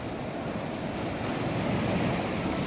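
Sea waves breaking on a beach in Pondicherry, a continuous, loud wash of surf with steady wind noise on the microphone and no voices.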